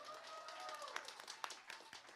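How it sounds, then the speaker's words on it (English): Scattered clapping from a small audience at a songwriters' round concert, fairly faint and thin, with a few distinct hand claps standing out. "Another round of applause for everybody tonight."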